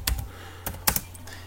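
Keys on a computer keyboard clack sharply during a typing practice game, with four or five crisp, irregular keystrokes in quick succession and no voice.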